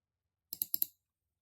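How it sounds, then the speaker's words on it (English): Two quick double-clicks of a computer mouse, four crisp close clicks in pairs against silence. "just double click on this one"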